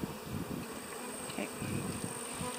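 Honeybees humming steadily inside an open hive frame of brood tended by nurse bees, a dense, close, continuous drone with no talk.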